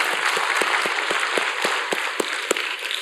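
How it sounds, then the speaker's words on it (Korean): A congregation claps in unison during a Korean Easter church service, a quick run of steady rhythmic claps filling the hall. "우리 하나님께 영광의 박수드립니다"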